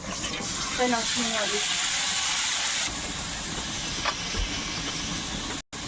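Garlic and five-spice seeds sizzle in hot oil in a pan, a loud steady broadband hiss that carries on without a break, with a brief voice faintly underneath.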